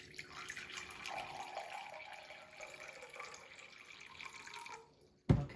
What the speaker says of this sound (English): I'll start by putting a cup of water in here.